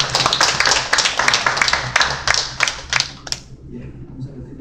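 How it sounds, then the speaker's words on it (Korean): A small church congregation claps briskly for a few seconds, uneven and fairly close, then the clapping stops and only a quiet room remains. "박수 한번 해드리기 바랍니다"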